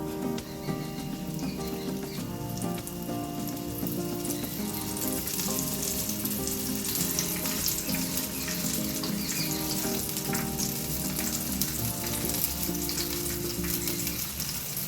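Chicken pieces coated in maida and cornflour fry in coconut oil, giving a steady close sizzle with soft popping and crackling throughout, no talking.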